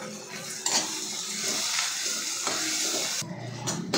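Spoon stirring green peas with turmeric and salt in a pan on the stove, scraping and rattling against the metal over a soft sizzle, with a few sharper knocks of the utensil in between.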